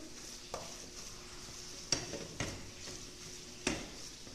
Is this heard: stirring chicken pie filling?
yes